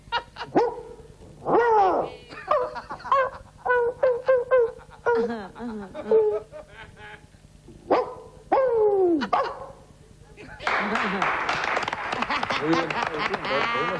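A man imitates a dog barking with his voice, giving a series of loud yelps and barks in bursts close up, followed by a noisier stretch of overlapping sound.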